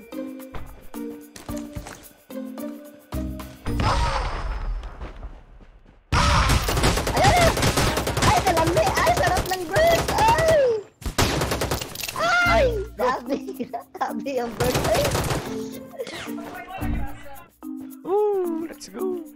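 Burst gunfire from a gun in the mobile shooter Rules of Survival, loud rapid volleys in long dense runs with short gaps between them, while a player's voice talks excitedly over and between the shots.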